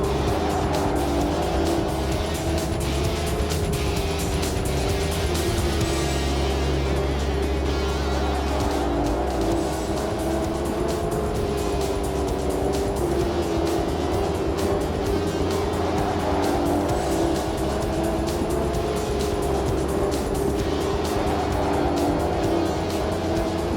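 V8 Supercars race cars are on track, with loud, continuous engine roar and rising and falling revs as cars pass close by. A brief low thump comes partway through, and the roar stays steady with no pauses.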